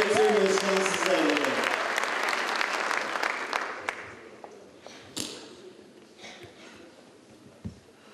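Audience applause at a poetry recitation competition award ceremony in Kayseri, Turkey, loud and dense at first, then thinning out to scattered claps over several seconds.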